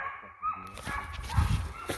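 A brown hunting dog barks and yips during a deer dog race, with short excited calls scattered through a noisy outdoor scene and a louder burst near the end.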